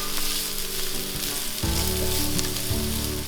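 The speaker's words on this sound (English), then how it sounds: "So I'm just kind of sauteing these onions" Onions sautéing in extra virgin olive oil in a pan, a continuous close crackling sizzle with a low steady tonal hum running beneath it.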